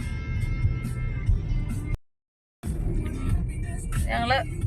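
Steady road rumble heard from inside a moving vehicle in heavy traffic, with passing engine noise, a brief dropout in the middle, and a faint tonal sound near the end.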